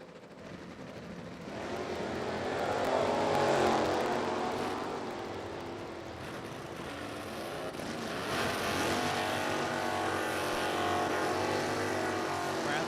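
A stock automatic Corvette and a stock automatic GTO launch in a drag race, a broad sustained engine roar that swells, eases slightly, then surges again as the cars run down the strip, loud and continuous.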